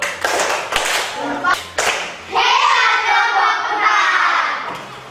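Primary school pupils in a classroom perform a rhythmic clap chant, a few sharp group claps up close followed by children's voices chanting loudly in unison.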